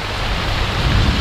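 Rain pours down outdoors during net fishing for tilapia, a dense, loud, steady hiss of falling drops with no voices.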